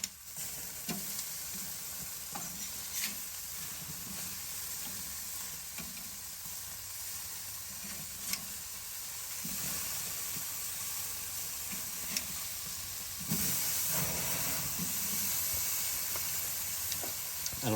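Ranch cheeseburgers sizzle steadily on a barbecue grill, a continuous frying hiss with occasional sharper pops and scrapes as the patties are flipped, the sizzle growing slightly louder toward the end.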